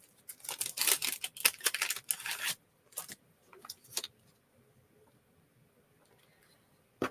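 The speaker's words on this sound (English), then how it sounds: "And now I'm going to cut my tag first." Paper craft tag being cut with scissors: a dense run of crisp snipping and rustling for about two and a half seconds, then a few isolated snips and light handling noises, close and fairly quiet.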